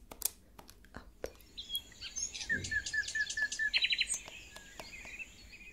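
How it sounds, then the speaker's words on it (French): Several birds sing and chirp in bright repeated phrases and quick trills, fairly close and clear over quiet background ambience, with a few short clicks at the start. "Des oiseaux, très bien,"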